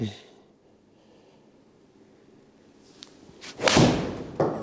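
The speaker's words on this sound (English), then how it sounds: "So I'm moving to the last of my Cleveland wedges, the 50 degree." A golf shot struck with a Cleveland 50-degree wedge: a single sharp strike lands about three-quarters of the way through after quiet, followed by a smaller thud near the end.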